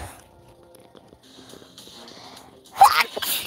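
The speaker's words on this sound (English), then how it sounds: "I'm about to sneeze." A single sharp sneeze bursts out near the end, loud and close, following a stretch of quiet indoor room sound with faint tones.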